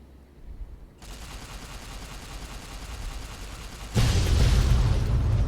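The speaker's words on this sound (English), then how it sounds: "that's a very dramatic explosion there" A dramatic explosion in Fallout New Vegas begins with a crackling roar that builds steadily, then jumps into a louder, deeper blast that rumbles on to the end.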